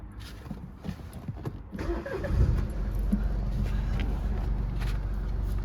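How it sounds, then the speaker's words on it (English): A 1.5-litre BMW 1 Series 116d M Sport diesel with manual gearbox and 42,905 miles starts up: a brief starter crank, then the engine catches into a steady, low, close diesel idle that holds to the end. "Just start the car up."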